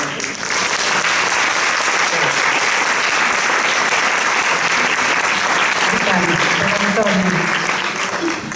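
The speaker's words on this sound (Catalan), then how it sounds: "Jo faria un aplaudiment per l'Antoni." Loud, sustained applause from an adult school's anniversary audience, thick, continuous clapping that holds steady for over eight seconds, with faint voices murmuring underneath toward the end.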